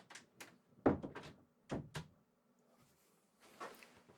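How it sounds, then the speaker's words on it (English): An indoor door that had swung back open being shut again, a few close dull knocks and thunks in quick succession, then quieter handling noise. "The door's come back open."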